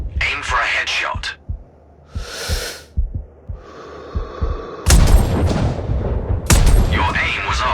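A sniper rifle shot rings out in the video game Sniper Ghost Warrior: one sharp, loud report with a burst of broadband noise and a ringing tail, surrounded by breathing and other game sounds.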